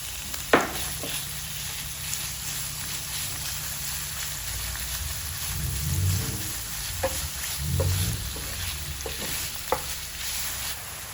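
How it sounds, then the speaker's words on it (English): Minced pork stir-frying in a pan for a tomato stir-fry, broken apart with a spatula: a steady moderate sizzle with repeated sharp spatula scrapes and taps against the pan. "Add the 200 grams minced pork and cook for 3 to 4 minutes, breaking it apart with a spatula until browned."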